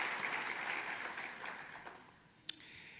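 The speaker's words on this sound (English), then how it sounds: "a round of applause." A city council, city staff and community volunteers get a round of applause at a mayor's State of the City address, heard as steady, moderately distant clapping from a large audience that fades toward the end.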